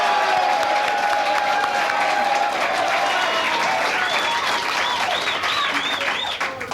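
Studio audience at a live 1986 broadcast applauding the director, sustained loud clapping with some cheering that holds steady and only begins tapering at the very end.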